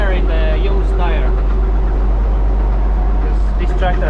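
A farm tractor idles steadily with its onboard air compressor running to inflate a tire, a loud constant engine drone throughout, while someone talks over it.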